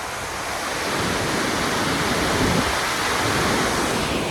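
Water pours through two open gates of Massanjore Dam on the Mayurakshi River in Jharkhand, a dense, steady roaring rush that continues unbroken throughout.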